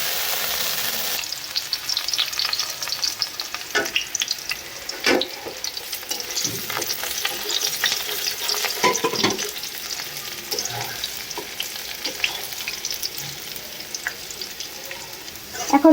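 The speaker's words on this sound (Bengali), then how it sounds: "প্রথমে ঢেঁড়স ভাজা হচ্ছে আর আলু ভাজা হচ্ছে।" Okra and potatoes fry in oil in a home kitchen pan, a continuous sizzle broken by repeated scraping and stirring clatters, close and fairly loud with no voices.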